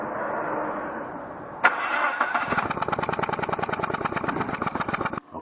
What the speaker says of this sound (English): go ahead and crank the engine and start it up